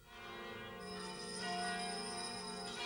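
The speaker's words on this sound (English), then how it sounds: "The bells toll midnight." Church bells in Bethlehem toll midnight on Christmas Eve, faint ringing tones swelling and sustaining at a distance with no talking.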